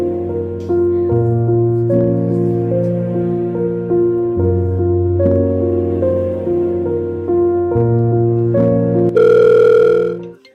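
A phone rings with a repeating electronic melody, loud and close, cycling through tones before stopping abruptly near the end.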